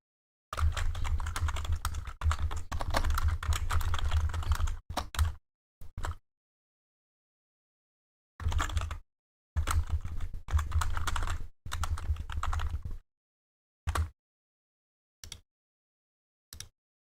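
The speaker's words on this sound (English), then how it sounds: "Can I type on this keyboard, Kathy?" Bursts of typing on a computer keyboard, rapid clicking runs separated by silent pauses, some long and some just a few keystrokes, close and clear with no voices.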